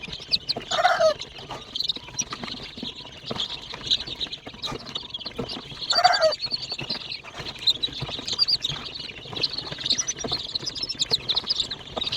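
Chickens cluck and chirp steadily throughout while being handled for a Gumboro vaccination, with louder bursts of clucking near the start and around the middle and a constant busy background of birds close by.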